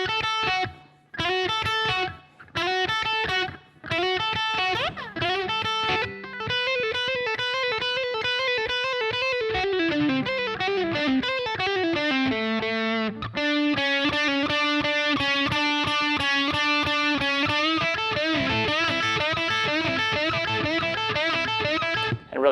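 Distorted electric guitar plays a solo: fast, bright runs, then bends and sliding phrases into a sustained repeating figure. Loud and close, with no voice.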